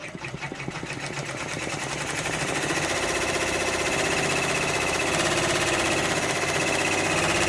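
An embroidery machine stitches freestanding lace for a floral pumpkin design, its rapid, even needle clatter starting up and then running steadily and loud at close range.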